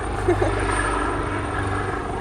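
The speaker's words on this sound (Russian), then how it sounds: "Опять у нас вертолет. Вот он." A helicopter flies overhead near Miami with a steady, loud rotor drone and a low engine hum that holds throughout.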